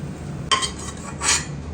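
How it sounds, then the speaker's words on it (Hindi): A spoon scrapes and clinks in a pan while fenugreek seeds and ajwain are lightly roasted together. Two brief bursts of metallic stirring rise over a low, steady background, with no talk. "हम लोग सबसे लास्ट में भून रहे हैं मेथी। तो मेथी दाना है और अजवाइन, इसको हम साथ ही में डाल रहे हैं।"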